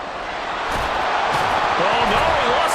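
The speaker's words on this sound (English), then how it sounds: "This crowd making it hard to hear" A loud stadium crowd roars in the video game Madden NFL 24 during a Vikings vs Jets matchup, a thick, continuous wash of noise that swells and stays loud throughout.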